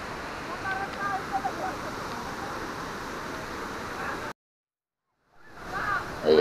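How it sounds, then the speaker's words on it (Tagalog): Daranak Falls, a running waterfall in Tanay, Rizal, pours with a constant broad rushing roar that cuts out abruptly for about a second near the end before the roar returns. "Kasi running falls talaga siya."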